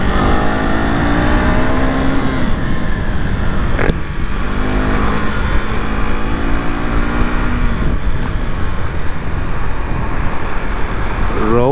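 A motorcycle engine revs hard as the throttle opens, its loud, steady roar climbing in pitch through several sweeps before settling into a continuous rumble.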